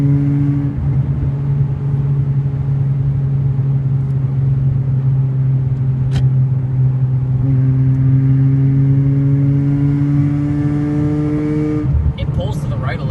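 A Mazda RX-8 on a test drive, its engine holding a steady droning hum with a slow change in pitch partway through, loud and continuous inside the cabin.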